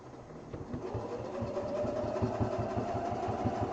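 A sewing machine stitches a quilted duffel bag, its motor running with a rapid, steady mechanical chatter that builds slightly and stays close and continuous.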